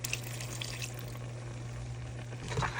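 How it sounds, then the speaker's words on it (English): Water poured into a pot of callaloo with spinach and hot pepper, a quiet splashing trickle over a steady low hum, rising briefly at the end. "I'm gonna add a little bit of water to this."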